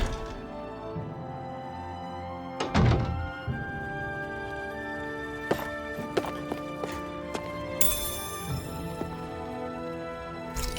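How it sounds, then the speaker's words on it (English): Metallic hammer strikes in the video game Tales of Arise, scattered clanks and thuds at an uneven pace over a bed of game music and ambience, one heavier crash early on, no talking. "I always love the sound of hammers banging away."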